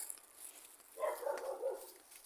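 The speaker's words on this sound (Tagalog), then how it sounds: "May aso." A dog barks a few times at a distance, faint short yaps grouped near the middle of an otherwise quiet outdoor resort setting.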